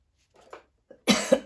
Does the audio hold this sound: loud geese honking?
no